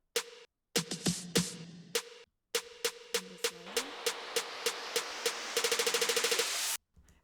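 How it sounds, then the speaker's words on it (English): A snare drum build-up in a K-pop style beat, with sharp hits spaced out at first and then quickening into a rapid roll that ends abruptly in silence, loud and with no voice over it. "also the snare build up"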